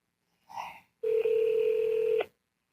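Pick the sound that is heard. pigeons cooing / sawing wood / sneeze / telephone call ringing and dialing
telephone call ringing and dialing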